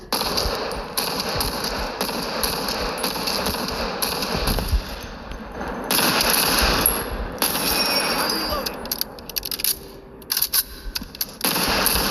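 Loud, dense gunfire from an M1 Garand rifle in the World War Heroes video game, sustained bursts of sharp shots layered with in-game battle noise that briefly drops before more scattered shots.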